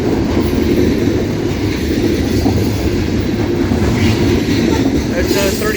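A combined 200-car CSX loaded coal train of hoppers rolls past at Morgan Station Road, a loud continuous rumble with rhythmic clickety-clack of wheels over rail joints and a faint squeal near the end.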